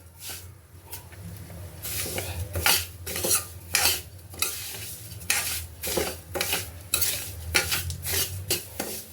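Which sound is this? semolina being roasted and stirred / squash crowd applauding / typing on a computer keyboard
semolina being roasted and stirred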